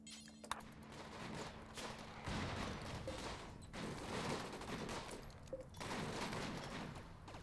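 A minigun fires in Rimworld in long, continuous rattling bursts broken by short pauses, fairly faint and steady across several seconds, with no voices.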